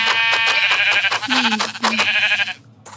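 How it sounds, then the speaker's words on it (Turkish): Several repeated Minecraft sheep bleats, loud and close, in a quick series with a brief lower call in the middle, then fading to a short final bleat. "Koyunlar, kuzular."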